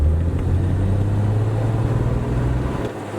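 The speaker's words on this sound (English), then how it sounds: "Oh, she sputters." A cheap classic car, a $1,300 restoration project, runs its engine at wide open throttle with a deep, uneven low rumble that sputters and surges, close and loud from inside the car.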